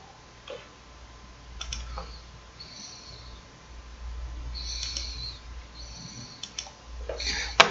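A computer mouse clicks several times at close range, scattered sharp ticks over a quiet room hum, with a slightly louder cluster near the end.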